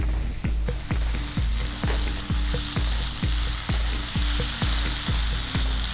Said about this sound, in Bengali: ম্যারিনেট করা চিংড়ি মাছগুলো আমি দিয়ে দিচ্ছি।